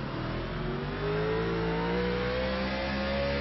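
Race car accelerating around Sonoma Raceway, a steady loud engine drone that climbs smoothly in pitch from inside the car, with no talking.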